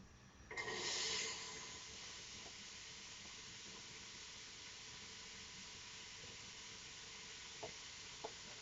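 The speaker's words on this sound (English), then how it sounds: "If it sizzles, it's ready" A sudden loud hiss erupts as onion hits hot oil, then settles into a steady frying crackle that continues to the end.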